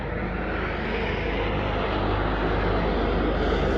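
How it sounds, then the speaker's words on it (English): A helicopter passes overhead, a steady, loud rumbling drone that fills the whole stretch without a break and swells slightly toward the end. "Hello, helicopter."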